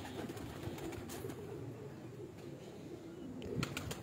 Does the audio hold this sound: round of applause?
no